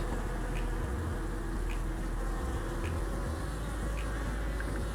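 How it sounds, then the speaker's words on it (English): A steady, dense insect buzz of bees hums throughout, with faint brief tones drifting in and out and low rumbling wind in the background. "These are nice fuzzy bees."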